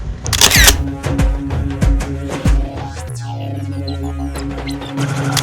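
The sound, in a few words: camera shutter clicking at fast shutter speed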